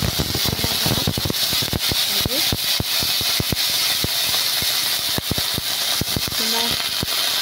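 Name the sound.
drumstick curry ingredients sizzling in hot oil in a wok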